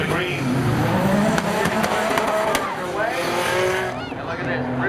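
At Seekonk Speedway spectator drags, a red Mitsubishi and a silver Subaru Outback launch and race off, engines revving loudly with some tire noise, under an announcer's continuous commentary.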